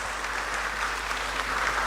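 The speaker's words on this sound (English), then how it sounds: "Can we give them a round of applause?" Audience clapping at a university seminar launch event, a steady wash of applause from a moderate-sized crowd, fairly even and somewhat distant throughout.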